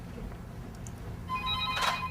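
A telephone rings with a bright electronic tone that enters about halfway through and repeats, standing out over a low background hum, with no talk.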